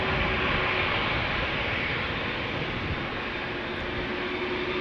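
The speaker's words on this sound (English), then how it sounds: "The Embraer 190 to Christiansand." Embraer 190 airliner taxiing toward the runway threshold at Amsterdam Schiphol, a continuous loud broadband jet-engine roar with a faint steady whine, holding nearly constant throughout.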